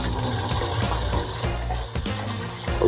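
Jasmine rice rinsed under running water from a tap, a close, steady gush and splash with small clatters of grains and pot, continuous throughout.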